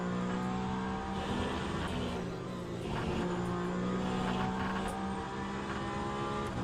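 GTE race car engine in a racing video game, a steady loud drone with shifting revs and gear changes, continuous and close with no talking.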